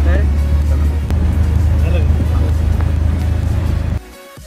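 Auto-rickshaw engine humming steadily on a ride to the airport in Mumbai through heavy traffic, a close continuous motor drone under constant talking, dropping away at the end.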